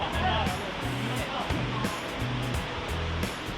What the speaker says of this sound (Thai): นี่ก็จะเป็น ลำธารธรรมชาติ ที่ไหลมาจากเชียงดาวเรานี่เองนะครับ